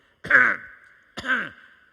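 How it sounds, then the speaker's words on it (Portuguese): Two short, raspy throat-clearing sounds about a second apart, close and alone in an otherwise quiet room. "É o danado do pigarro que dá no homem"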